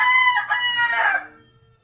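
A rooster crows once, loud and close, a single drawn-out call that fades at the end, with chickens kept by their owner around it.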